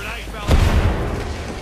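A grenade blast in Apex Legends during a competitive scrim, a single loud, close boom with a heavy low burst and short decaying rumble, preceded by brief talk.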